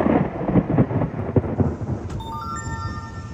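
Thunder rolls loud and close from a storm near a Kansas tornado, rumbling in uneven surges before fading as a bright electronic tone chimes in near the end.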